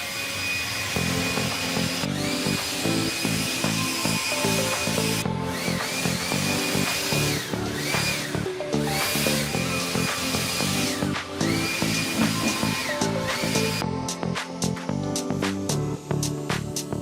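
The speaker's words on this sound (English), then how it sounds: "I am fairly impressed with this little Dremel tool, this Fanti." Fanti Dremel-style rotary tool grinding Chevy C10 parts during prep for paint, a steady high-pitched whine with repeated brief pauses and restarts, close and loud, with no talking.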